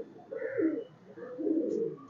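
Breeder pigeons cooing close by, two soft throaty coo phrases in succession with no other sound around them.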